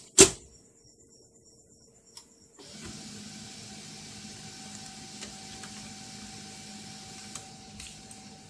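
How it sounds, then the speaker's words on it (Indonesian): HP LaserJet laser printer that struggles to pull paper, clicking once, then running with a steady mechanical hum and whir while pulling a sheet and printing, with a few faint clicks over the drone. "Oke, kita coba buat print."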